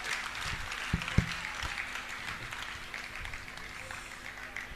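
Audience applause at a Jain Panchkalyanak Pratishtha festival on an outdoor ground: a steady, dense wash of many hands clapping, with a few sharper close claps near the start, continuing for the whole stretch without talk.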